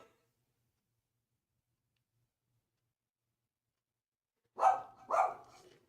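A dog barks twice in quick succession after long silence, fairly close and alone, the sharp barks trailing off into faint low noise.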